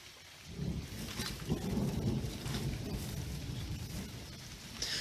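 Rain pours steadily in the south of France, with a broad, continuous wash of hiss and patter that stays fairly loud throughout, a few low rumbles under it and no voices.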